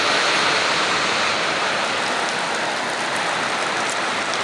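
Heavy rain pours down in Cebu, a dense, steady hiss of drops drumming on surfaces, loud and close, with no talk and no letup.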